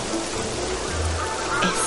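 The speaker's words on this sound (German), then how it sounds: "Es regnet wirklich." Steady rain patters in a dense hiss in a forest in Fable: The Lost Chapters, with a brief low rumble partway through and a faint birdlike chirp near the end.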